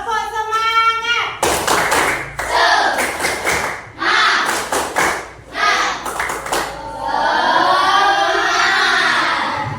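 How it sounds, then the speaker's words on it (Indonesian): Groups of rhythmic hand claps in quick bursts from an Indonesian "Tepuk semangat" clapping game, mixed with voices chanting along, loud and close. "Tepuk semangat."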